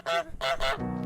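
A cartoon goose in Untitled Goose Game lets out three loud, nasal honks in quick succession, each short and brassy, followed by a slightly longer, lower honk at the end, with no talking.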